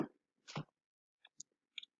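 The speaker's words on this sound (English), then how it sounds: "I'm just chewing my gum a little bit." Gum being chewed close up in a quiet room, a few soft wet smacking and clicking bites spaced irregularly, brief and isolated.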